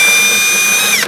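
A power drill bores out a spot weld on a 1957 Chevy trunk panel, a loud, steady high whine that cuts off abruptly near the end.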